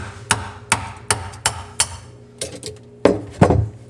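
A hammer taps a garbage disposal loose, sharp metal taps, about nine blows at an uneven pace, the last two heavier and more resonant.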